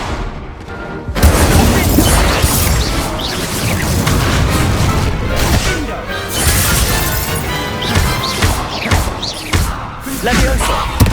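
Fire-spell blasts from Hogwarts Legacy crash out in a loud, dense barrage of booms and bursts over about eleven seconds, mixed with shouted spell incantations and combat noise.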